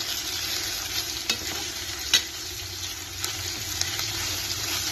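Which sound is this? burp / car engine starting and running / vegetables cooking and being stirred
vegetables cooking and being stirred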